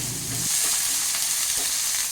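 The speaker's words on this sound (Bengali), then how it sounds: "ওই তেলের মধ্যেই আমি বেগুনগুলোকে হালকা করে একটু লালচে লালচে করে ভেজে নিচ্ছি দেখো বেগুনগুলো দিয়ে দিলাম" Eggplant pieces frying in oil for a Bengali parshe fish curry, a steady close sizzle with a few faint stirring scrapes and no voices.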